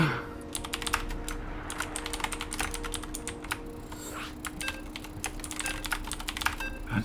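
Rapid, uneven clatter of keys on a computer keyboard, with dense clicks running steadily the whole time over a faint constant hum, close and fairly quiet, with no voices.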